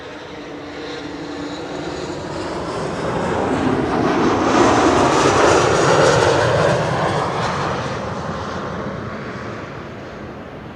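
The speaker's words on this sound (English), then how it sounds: "That's an Embraer 190." A KLM Embraer 190 jet airliner arrives at Amsterdam Schiphol, its engine roar swelling to a loud, whooshing peak as it passes close by, then easing off again.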